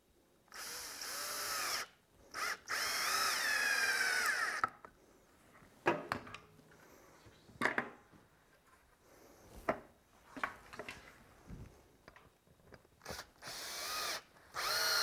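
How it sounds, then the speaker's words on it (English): A power drill drives screws into a log, with several loud whirring bursts separated by quieter knocks and handling sounds. "I'm going to shoot a screw in here and here just to hold this out so it doesn't tip"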